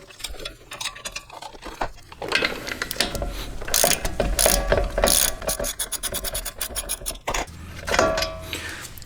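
A breaker bar cracks loose the brake caliper bolts on a 2015-2022 Chevy Colorado or GMC Canyon front wheel, giving repeated close ratcheting clicks and metallic mechanism noise with scraping, loudest in the middle and again near the end.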